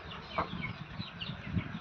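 A Peruvu cross hen, about 3 to 3.5 kg, gives a few soft clucks at close range over a steady background of farmyard noise.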